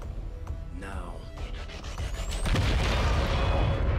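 A broadband explosion boom in the XCOM 2 video game swells up after a spell of game audio and a rising whistle, then holds as a loud, sustained rumbling roar to the end.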